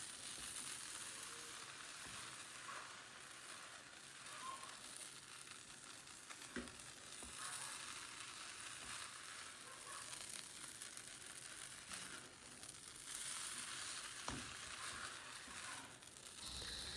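Noodles sizzle and fry in a pan while being stirred and mixed, a steady, fairly quiet crackle with occasional soft scraping and clinks, no voices.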